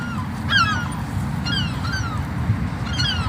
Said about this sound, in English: And I hope you can hear us for the goddamn seagulls.